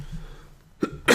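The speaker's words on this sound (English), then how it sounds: "Sorry about the cough" A single sharp cough bursts out near the end, preceded by a smaller throat sound, close and loud against a quiet room.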